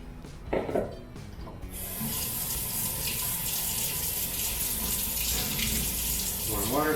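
Warm tap water pours steadily into a measuring cup at a kitchen sink, a loud continuous splashing rush that follows a few clinks and handling knocks.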